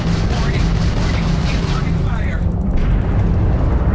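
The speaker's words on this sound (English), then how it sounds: "Fire missiles" Missiles fired from a spaceship in Starfield during a space battle, a dense roaring rush of blasts and booms under engine rumble, loud and continuous, with a voice talking over it.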